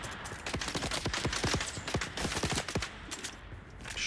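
Rapid gunfire from a firefight in the Dune: Awakening video game, sharp repeated shots in quick irregular bursts at moderate distance, with no talking.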